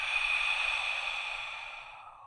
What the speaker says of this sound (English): Exhale. Make it loud, y'all.